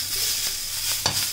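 A pinch of asafoetida sizzles in hot oil while methi chutney cooks, a continuous hiss broken by a few scraping stirs of a spoon in the pan, close and fairly loud.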